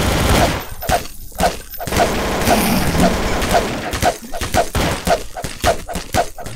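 Gunfire in Garry's Mod, a Minecraft-themed match: rapid, regularly spaced loud shots cracking out over several seconds amid dense game noise.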